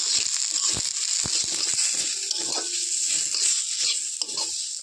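Paneer and vermicelli sizzle in a pan as a spoon stirs them, with scraping knocks scattered over a steady hiss of frying oil.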